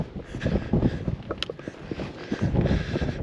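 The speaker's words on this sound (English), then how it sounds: "A bit windy up here." Gusty wind buffets the microphone on a Scottish Munro summit in Glen Affric, a steady low rumble with stronger gusts near the start and end.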